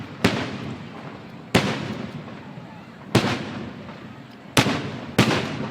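Fireworks burst over Hanoi in five sharp, booming reports at uneven intervals, each cracking loudly and then decaying into a rumbling tail above steady background noise.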